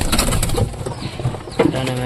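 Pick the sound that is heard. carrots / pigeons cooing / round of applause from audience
pigeons cooing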